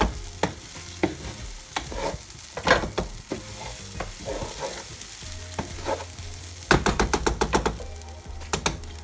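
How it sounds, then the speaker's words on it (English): Rice frying with cured beef in a pan, a steady sizzle broken by repeated scraping and tapping of a spoon against the pan in irregular bursts, with a rapid clatter of stirring near the end. "I'm trying to just fry the rice a little bit"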